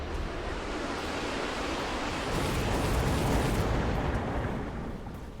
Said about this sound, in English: Missile strikes coming down once again, taking crawlers and damaging the Phoenixes here